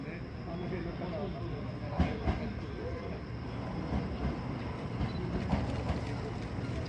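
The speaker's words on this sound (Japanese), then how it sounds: "はい、列車入ります。" A WEST EXPRESS Ginga train pulls in at a station platform, a steady rumble of rolling wheels with a few sharp rail clicks and faint voices in the background.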